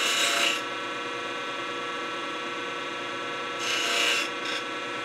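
Wood being turned on a lathe for a pocket pill box, rounding over the edge: a steady hum with two bright, rasping bursts as the tool cuts, the first at the start and another later.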